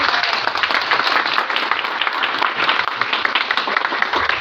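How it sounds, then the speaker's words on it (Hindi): Crowd clapping at a Labour Day event for sanitation workers in Okara, a loud, continuous, evenly dense applause from many hands with no break and no talk on top. "ये तालियां हमारे लिए नहीं, ये तालियां आप सबके लिए, ये आप सबके लिए तालियां।"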